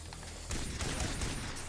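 Rapid pistol shots ring out at a snake in Far Cry 3, a burst of several sharp close cracks fired in quick succession after a brief quieter lead-in.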